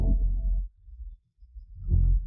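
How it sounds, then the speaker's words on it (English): An isolated bass stem unmixed in SpectraLayers 9: deep, sustained low bass notes that fade out, pause briefly, then swell back in, heard alone with no drums or voice. "And here we have the bass layer."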